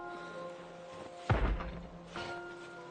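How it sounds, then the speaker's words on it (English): In the zombie game Project Zomboid, a door under attack gives a single heavy wooden thunk and crunch, followed by a softer knock moments later, set against a quiet steady game hum. "That is the sound of a door that is very close to breaking."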